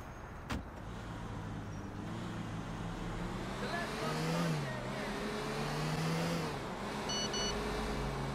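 A car drives in the video game GTA 4, its engine droning steadily and rising in pitch as it accelerates, with a sharp click at the start and a few faint electronic beeps later.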